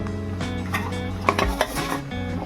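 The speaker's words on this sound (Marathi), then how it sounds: "आपलं तेल तापलेलं आहे आणि आता आपण शंकरपाल्या टाकून घेणार आहोत" Shankarpali dough pieces going into hot oil, giving a steady busy crackle and sizzle under clinks of a metal utensil against the pan, close up.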